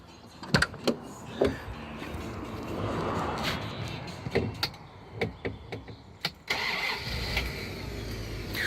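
A Rolls-Royce Silver Spirit heard from inside the cabin: a few clicks and clunks, then the starter cranks and the engine catches, settling into a steady idle. Close and fairly quiet.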